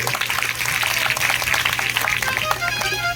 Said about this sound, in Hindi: हमारे बागपुरा के भक्तों के लिए जोरदार ताली सुनाई